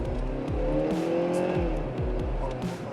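A Volkswagen Polo sedan accelerates hard from inside the cabin. The engine note climbs steadily and drops at each gear change, a loud, close drone with no speech.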